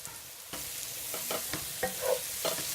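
Garlic and ginger paste sweats in a pan with a quiet, steady sizzle, broken by several soft scraping and stirring knocks.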